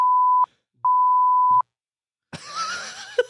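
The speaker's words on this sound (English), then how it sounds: "this is where you're gonna bleep" Censorship bleeps cover speech: two loud, steady electronic tones, one short and one longer, with brief gaps between them, followed by a burst of talk and background noise.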